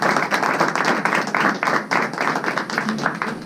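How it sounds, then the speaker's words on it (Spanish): A church congregation claps in praise during a Spanish-language worship service, a steady dense wash of hands that carries through the whole stretch, loud and close with no pause. "Denle un aplauso al Señor."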